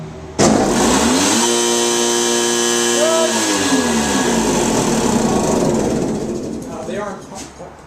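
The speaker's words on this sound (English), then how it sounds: "Next we have the two rotary coil vacuum pumps that are equipped with auto lubrication" A skid-mounted rotary claw vacuum pump with auto lubrication in a remedial treatment system kicks on abruptly and runs as a loud, close, steady mechanical whine, its pitch shifting midway before winding down near the end.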